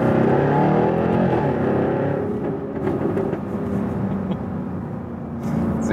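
A 2015 Jaguar F-TYPE R Coupé in dynamic mode, heard from inside the car, gives a loud, steady engine and exhaust drone that drops in pitch and eases off partway through, then swells again near the end.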